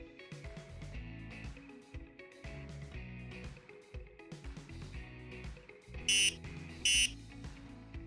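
Two short, bright electronic beeps from an access card reader near the end, separated by under a second, over continuous background music.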